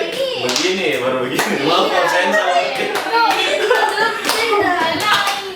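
Children clap through a concentration clapping game, steady overlapping hand claps under continuous voices and a little laughter, close and fairly loud.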